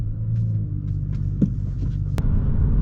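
A manual BMW 335i E92 is push-button started, then its engine runs with a steady, close, low rumble throughout, with one brief louder surge partway through and no talking.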